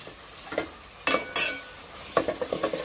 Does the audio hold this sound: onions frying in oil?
yes